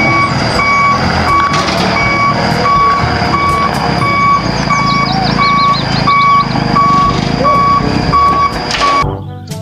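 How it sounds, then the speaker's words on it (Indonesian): A large concrete mixer truck rumbles close by while its reversing alarm sounds a steady, evenly spaced series of loud, high beeps, about a dozen over roughly nine seconds, before cutting off. "di sini ada mobil truk molen besar"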